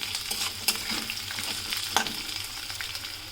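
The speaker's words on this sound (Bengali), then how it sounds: "দিয়ে একটু নেড়ে চেড়ে ভেজে নেব।" Sliced potato, beans and cauliflower stir-fry in hot oil in a pan, a steady sizzle broken by a few sharp scrapes and clanks of a spatula stirring the vegetables, close and with no talk.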